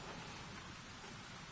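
Steady rain pours across Titan in Destiny 2, a dense continuous hiss with low rumbling underneath, unbroken and evenly loud throughout, with no voices.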